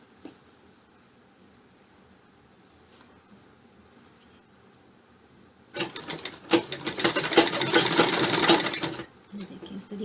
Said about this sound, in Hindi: सिल देना है बाजू।